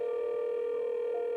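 A steady electronic telephone tone sounds for an unanswered call, one continuous, even pitch that stays clear and constant throughout, with no voices.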